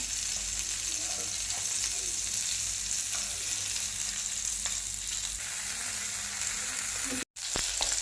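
Fish fries in a pan, a dense, steady sizzle that holds loud and close throughout with faint crackles, broken by a brief cut near the end.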